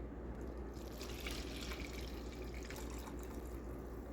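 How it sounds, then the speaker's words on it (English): Strained slow-cooker chicken bone broth pours into a container in a home kitchen, a steady, close liquid trickle and splash running for several seconds without speech. "All right, so we're just gonna pour these into the container."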